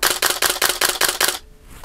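Nikon D700 camera shutter firing in rapid continuous bursts, about seven sharp mechanical clacks in quick even rhythm, close and loud, then stopping abruptly.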